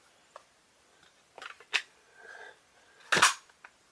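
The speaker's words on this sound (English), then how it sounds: "You should hear that snap in place." A few quiet clicks and rustles of handling, then one sharp plastic snap as a part locks into place on a Black Ops M4 Viper airsoft rifle, followed by a small click.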